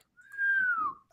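A voice imitates a single referee whistle from a basketball video game, one sustained whistled tone that glides slightly downward and lasts under a second, close and clear with no talk over it.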